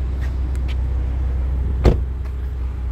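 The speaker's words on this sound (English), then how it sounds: "Sorry for the background noise, we're on a main road." Steady traffic noise from a main road, a continuous low rumble with a car passing close by near the middle and faint higher whooshes around it.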